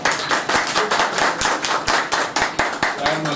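Audience applause rings out for police official Rana Ayaz Saleem, SSP Admin Lahore, a dense run of hand claps with sharp individual slaps throughout, loud and close, with a voice speaking over it.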